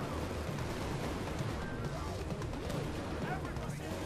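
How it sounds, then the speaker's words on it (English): Gunfire during a PAYDAY 2 heist shootout, a dense, continuous clatter of shots with booming low end that stays loud throughout, mixed with voices talking over it. "I'm gonna fucking shoot him."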